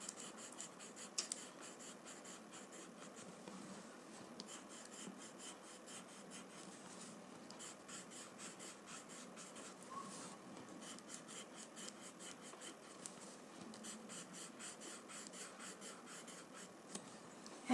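Chalk pencil drawing on paper to add highlights, a faint close-up scratching and rubbing with continuous small irregular strokes in a quiet room.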